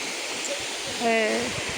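Steady broadband rush of water pouring down a waterfall, continuous and fairly close, with a faint tonal hum briefly rising above the noise midway.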